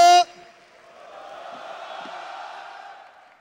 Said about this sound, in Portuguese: peço para todos vocês, de verdade, o aplauso mais forte da noite para Antônio Carlos Valente.